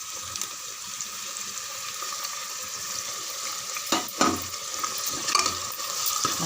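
Onions and tomatoes sauté in a pan, giving a steady moderate sizzle with a few louder stirring scrapes and clatters toward the end.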